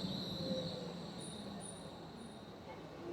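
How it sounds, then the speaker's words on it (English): A tram passing on a street in Vienna, a steady rumble with faint high wheel squeal over about three seconds, fairly distant and alone. "So this image will not be good because of this tram"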